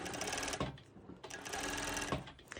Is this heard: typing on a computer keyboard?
no